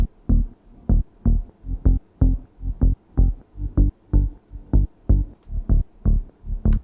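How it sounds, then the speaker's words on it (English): A soloed house music bass line pulses in a steady, driving rhythm of short, punchy low notes with gaps between them, playing alone without voices. "So I found the bass. We're going to solo this and play it against our new lead."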